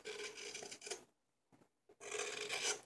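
A hand gouge scrapes and rasps out the bowl of a silver birch wooden tasting spoon. The strokes are close and dry, with a short pause and a soft scrape between two longer passes.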